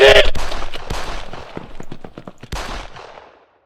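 Gunfire in a French comedy sketch: a rapid burst of loud close shots followed by a slower string of sharper cracks, then a final shot that rings out and fades to silence.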